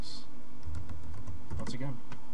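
Typing on a computer keyboard: a short, quick run of clicky keystrokes that sounds close by, alongside some low background hum and faint voice-like sounds.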